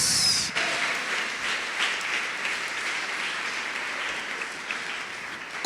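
Congregation applause during a church service, a continuous hiss-like wash of clapping at moderate level, without talk, ending in a brief louder thump.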